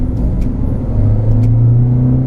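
A Renault Clio on a race track, its engine revving hard under load with a straining gearbox, a loud, close, continuous drone that rises slightly in pitch toward the end.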